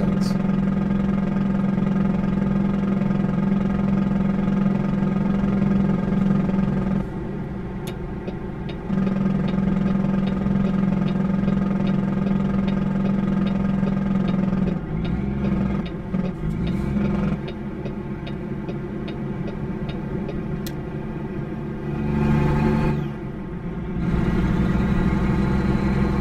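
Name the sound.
truck engine running in American Truck Simulator video game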